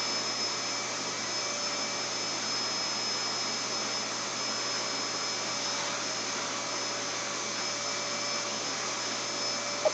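A vacuum cleaner grooming a Corgi drones steadily at full power throughout, loud and unchanging, with a high whine over a broad rushing roar.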